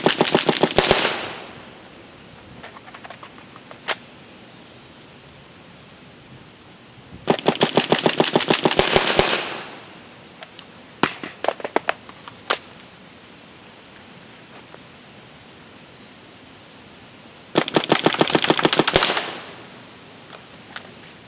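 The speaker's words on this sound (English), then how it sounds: "The Emek M100, just absolutely killer." A Planet Eclipse Emek MG100 magfed paintball gun fires rapid bursts of sharp pops outdoors, three long strings plus a few single shots in between, loud and near with no voices.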